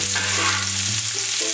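Onion, celery, carrots and chopped garlic sizzle loudly and steadily in a pan, with a bright hiss filling the whole short stretch alongside a low hum.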